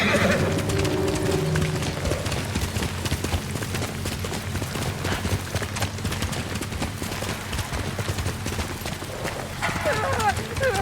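Horse riding in the video game Ghost of Tsushima: rhythmic hoofbeats and a whinny under an urgent voice and a game soundtrack, moderately loud throughout.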